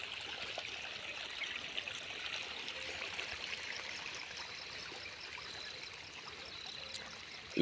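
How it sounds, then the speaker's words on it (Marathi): Irrigation water runs steadily in a soft, continuous trickling rush through a field, faint and even throughout, with no voices. "पाणी चालू आहे"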